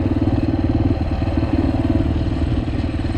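A Yamaha TTR125 dirt bike ridden steadily, its small single-cylinder engine chugging loudly and continuously at an even mid-throttle pace with a rapid pulsing rhythm, close to the rider and with no talking.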